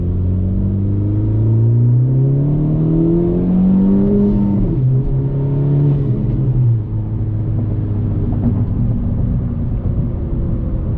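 A 10th-generation Honda Civic Si engine revs up loudly and steadily, rising in pitch, dropping briefly at the shift from second to third gear, then pulling strongly again in third.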